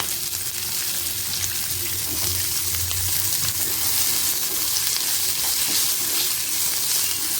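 Square-cut onion goes into a pan with ginger and garlic and fries in a steady, loud sizzle that hisses without pause throughout, with faint stirring.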